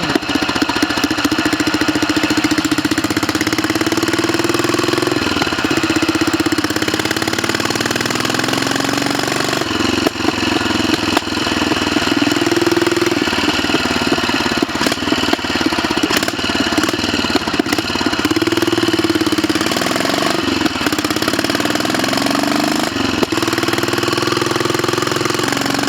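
Royal Enfield 500 Bullet trials motorcycle running steadily: a loud, close single-cylinder engine thumping and knocking with small revs rising and falling throughout, with no voices.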